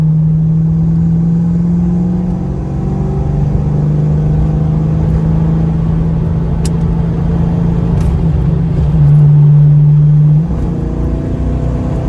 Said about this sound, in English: I hit the gas pedal and this thing takes off